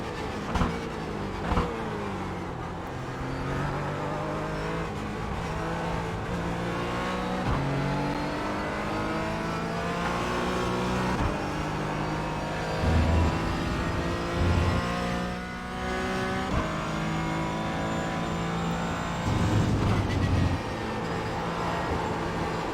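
Porsche Cayman GT4 race car engine in iRacing at Silverstone, a steady high-revving flat-six whine rising and falling through gear changes for the whole stretch, loud and close with no talking.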